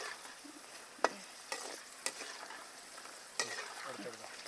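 Raisins frying in a pan of hot fat for Udupi-style poori payasam, a steady sizzle broken by a few sharp pops and spoon clinks, close and alone.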